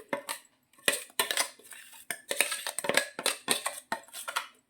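A spoon scrapes ground paste from a bowl into a frying pan, sharp metallic clinks and scrapes arriving in quick irregular bursts with short quiet gaps between them, close up and without talk.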